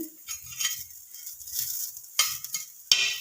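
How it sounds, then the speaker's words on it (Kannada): Bitter gourd fries in a pan with a soft, uneven sizzle broken by a few sharp clinks and scrapes of a utensil against the pan, close and fairly quiet. "ನಾನು ಇವಾಗ ಹಗಲಕಾಯಿ ಫ್ರೈ ಮಾಡಾಕತ್ತೀನಿ ನೋಡ್ರಿ"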